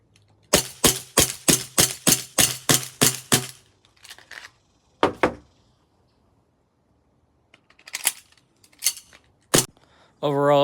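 Ten rapid, sharp shots from an Elite Force and KWC TAC 1911 airsoft pistol firing 6mm BBs on CO2 magazines, snapping in a quick steady string, then a few scattered single shots and clicks with quiet gaps between.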